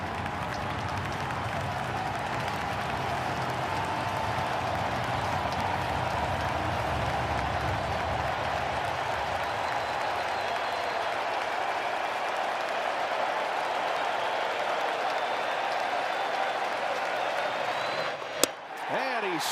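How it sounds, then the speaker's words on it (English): Loud, sustained cheering and roaring from a baseball stadium crowd at a Brewers NLCS game, continuous throughout, with a commentator's voice over it and a brief sharp knock near the end. "Crowd is loud."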